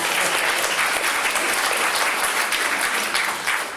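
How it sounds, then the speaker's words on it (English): An audience at a distinguished alumni award ceremony claps steadily and warmly, a dense wash of many hands at even loudness for the whole stretch, with no speech over it. "Y'all can clap for that"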